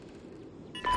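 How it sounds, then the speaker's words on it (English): Bomb-plant beeping in a tactical multiplayer shooter, a short electronic tone rising at the very end of a brief moment over low game background noise. "Bomb's been planted."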